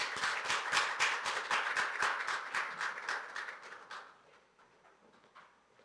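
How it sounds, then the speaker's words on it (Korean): An audience at a startup forum in the National Assembly Members' Office Building applauds a professor, a brisk, dense round of clapping from many hands that fades out over about four seconds. "박수 부탁드립니다."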